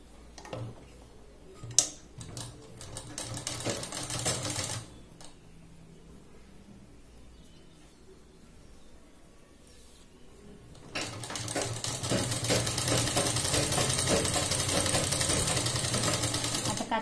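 A sewing machine stitches a blouse seam in rapid, steady bursts, running briefly at the start, pausing, then running continuously and loudly for the final several seconds; little else is heard.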